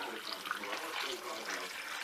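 Tap water runs steadily into a kitchen sink as an onion is washed while making potato soup, a constant close hiss of flowing water for about two seconds.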